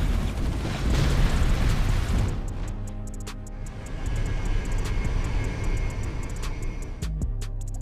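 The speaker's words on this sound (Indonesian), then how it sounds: "Kita kirim helikopter kita untuk bantu partner kita." A video game helicopter flown in to help a partner makes a loud, dense roar that thins and fades partway through, leaving a lower rumble dotted with small clicking game effects.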